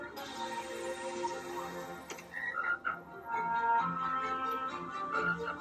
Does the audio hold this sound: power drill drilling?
no